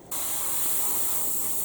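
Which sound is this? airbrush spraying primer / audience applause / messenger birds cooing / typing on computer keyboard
airbrush spraying primer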